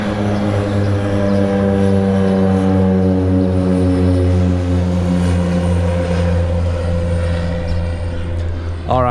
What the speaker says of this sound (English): And the plane is going up,